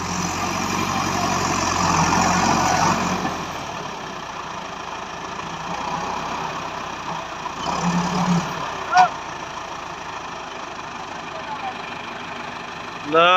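A tractor stuck with its trolley sunk in mud and the trolley's underside resting on the ground strains to pull free: a steady, loud, rumbling engine drone with a brief rise in effort midway, and voices in the background.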